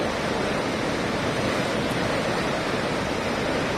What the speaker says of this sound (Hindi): भारी बारिश के कारण वियर कोजवे ओवरफ्लो हो गया है